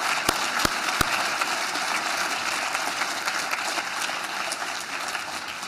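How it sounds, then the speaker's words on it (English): Steady audience applause for speakers and panelists at a legislative breakfast on mental health: a full, even patter of many hands clapping, with a few sharp claps close by near the start. "let's take a moment and give all of our speakers today a big round of applause."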